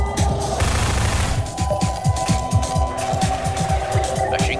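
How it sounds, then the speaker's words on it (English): Machine gun in Half-Life 2 fires a sustained, evenly paced stream of loud, close shots after a short noisy lead-in, with a steady rhythmic thump throughout. "Machine gun at last!"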